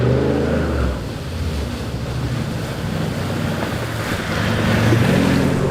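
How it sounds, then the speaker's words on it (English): A 4x4 on a beach and bush trip drives through salt water, making a loud, continuous rush of water and wind noise with engine rumble underneath that swells again toward the end. "There are two reasons for our big splashes here."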